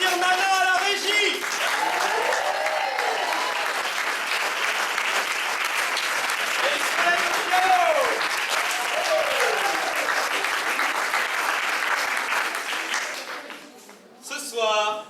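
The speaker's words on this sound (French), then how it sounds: "On peut applaudir Nana à la régie." Warm, sustained applause from an improv cabaret audience carries on for over ten seconds, with a voice speaking over it and cheering mixed in, before fading into a short pause and a final flare.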